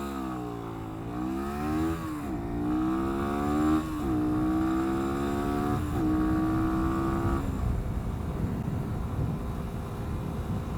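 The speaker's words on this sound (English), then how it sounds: "Gets off the line fine, up to 40 mile an hour, no problem." A 2022 Sinnis SM-XE 125 motorcycle pulls away from a standstill, its engine note climbing in pitch three times with a brief dip at each gear change, then settling into a steady roar at speed.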